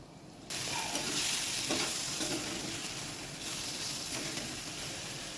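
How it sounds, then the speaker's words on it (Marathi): Mashed eggplant bharit sautéed and stirred in a pan: steady sizzling hiss that starts abruptly after a short quiet moment, with soft scraping strokes and no talking. "एकसारखं इथं आपल्याला 2 ते 3 मिनिटं सतत मिक्स करत राहायचे, परतून घ्यायच्या चांगली"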